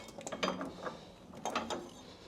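A ratchet wrench clicks in quick, uneven bursts as someone works loose the last gearbox mount bolt on a 2006 Smart Fortwo 450, close-up and fairly quiet.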